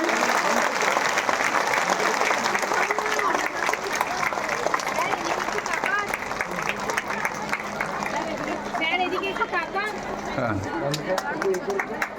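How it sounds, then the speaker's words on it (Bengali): Audience applause at a ceremony where a man is crowned and given a bouquet, steady dense clapping from a crowd that carries on throughout, with voices and chatter mixed in. "জোরে হাততালি।"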